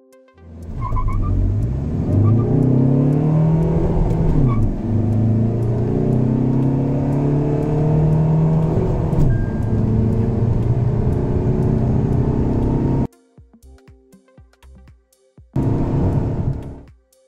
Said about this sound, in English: we are behind the wheel of the much awaited Tata Harrier, and it's powered by a 2-litre diesel